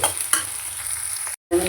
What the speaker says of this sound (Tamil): இந்த வெங்காயம் வதங்கும்போது கத்திரிக்காயும் போட்டுக்கணும்